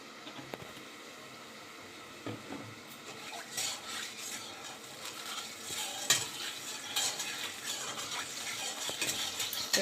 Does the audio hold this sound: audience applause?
no